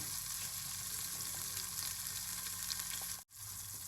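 Panang curry paste stir-fried in a pan over moderate heat gives a steady, even sizzle that cuts out for a split second near the end. No speech.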